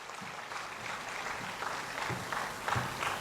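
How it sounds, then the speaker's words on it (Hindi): A crowd at a 2022 mushaira in Lucknow applauds continuously, a dense wash of many hands clapping that sounds somewhat distant and holds steady throughout, with no speech on top. "आपकी भरपूर तालियों में उर्फ़ी क़िदवाई साहब।"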